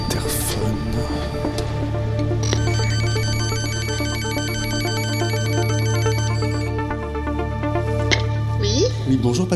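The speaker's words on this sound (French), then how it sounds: "Il y a un interphone." An apartment building intercom rings in loud, repeating electronic tones over a steady low hum, then stops, with faint handling noises around it.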